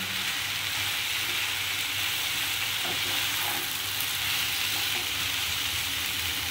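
Chicken stew pieces sizzle in a pot, a steady close hiss of frying with a few soft stirring scrapes and knocks, constant throughout.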